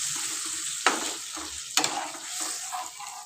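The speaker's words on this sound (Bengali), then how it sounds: "কিছুক্ষণ নাড়ার পর লাল লাল হয়ে আসলে সামান্য পরিমাণ জল দিয়ে দেব।" Spice masala fries in a pan while being stirred, a close, steady sizzle broken by a couple of sharper scraping strokes of the spoon.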